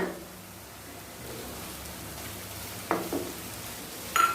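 Tomato with ginger and garlic sautéing in a pan, a soft steady sizzle and crackle running throughout, fairly quiet, with a couple of brief spoon or pan clinks near the end.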